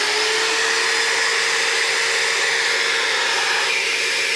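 Bissell Spot Clean Pro Heat carpet cleaner running right after being switched on, a steady, loud whooshing motor whine with a faint tonal hum throughout, no talking.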